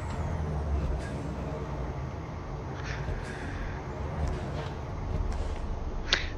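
International 9800 truck pulling away in American Truck Simulator, a steady low diesel engine drone with a sharp air-brake hiss near the end, sounding close and continuous.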